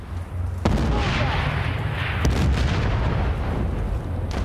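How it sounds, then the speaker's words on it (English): Grenade blasts in the video game Battlefield 1943, with sharp booming explosions at about 0.6 and 2.3 seconds over a constant loud roar of battlefield gunfire and rumble. "Oh, some grenades coming."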